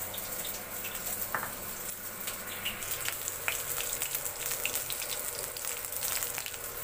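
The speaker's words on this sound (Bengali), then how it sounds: "তো মাছটা ওপাশে ভাজা হতে থাক" Silver carp frying in a pan makes a steady, quiet sizzle and crackle with scattered small pops throughout, and no voices.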